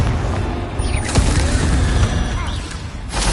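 A Confringo blasting spell explodes in the Hogwarts Legacy video game, a loud boom with a rumbling tail amid ongoing dense combat noise, close and full.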